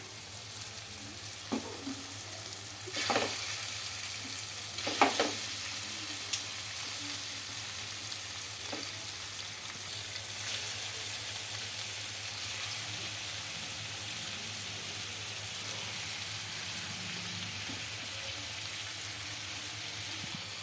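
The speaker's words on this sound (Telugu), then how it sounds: "ఇప్పుడు ఇక్కడ చేప ముక్కలన్నీ వేస్తున్నాం కదండి" Marinated fish pieces go into a pan of masala and fry with a steady, close sizzle, a few clacks and splashes early on before settling into a continuous hiss.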